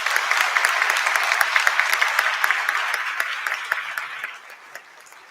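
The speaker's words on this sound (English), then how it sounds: "Let's give our students a round of applause" A university convocation audience applauds, a dense wash of many hands clapping with scattered sharper claps, loud at first and then gradually tapering off near the end.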